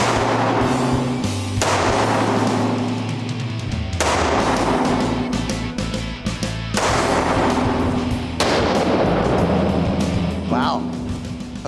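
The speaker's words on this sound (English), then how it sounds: "now let's just shoot this with the laser" A handgun fitted with a laser sight fires several loud, sharp shots at a range, spaced a couple of seconds apart, each followed by a ringing decay, with talk in the background.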